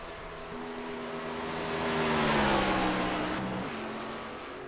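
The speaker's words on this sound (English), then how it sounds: "Plenty of downshifting." A stock car engine in a Pocono sim racing series drones close by, its tone swelling and falling as the revs drop through a series of downshifts, with a faint pass-by sweep.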